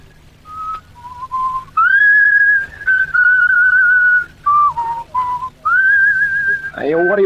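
A person whistles a tune nearby, clear melodic phrases with short gaps between notes, ending in a quick warbling flourish.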